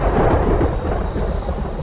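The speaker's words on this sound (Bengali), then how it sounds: "দেখছো আকাশটা কিভাবে বজ্রপাত হচ্ছে?" Thunder rumbling through a night rainstorm over a marshy wetland, a loud, continuous low roll with the hiss of rain beneath it, carrying on without a break and with no voices.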